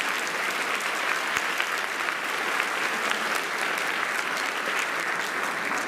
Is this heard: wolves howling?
no